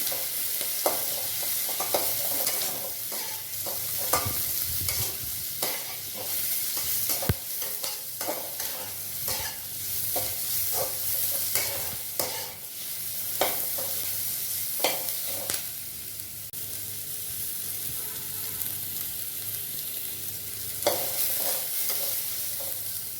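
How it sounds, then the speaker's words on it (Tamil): Chopped onions sauté with mustard seeds in a pan for a bitter gourd tamarind dish. Close oily sizzling is punctuated by frequent sharp scrapes and taps of a stirring spoon, with no voices. "இந்த வெட்டி வச்ச வெங்காயத்தை அதில் போட்டு கொஞ்சம் கலர் மாறுற வரைக்கும் லைட்டு கோல்டன் கலர் வர வரைக்கும் வதக்கணும்."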